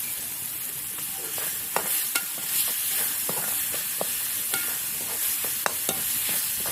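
A crushed ginger, garlic and green chili paste stirred into onion, potato and tomato cooking in a pan, with steady sizzling and sharp repeated scrapes of a spoon against the pan, no talk.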